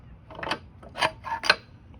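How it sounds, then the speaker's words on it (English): Metal front axle of a Zero SR electric motorcycle being pushed and threaded back through the wheel hub, producing several close, short scraping and clicking metallic bursts with quiet gaps between. "So I'm gonna put my axle back in, my axle right here."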